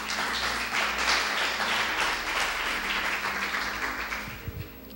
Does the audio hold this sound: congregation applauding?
yes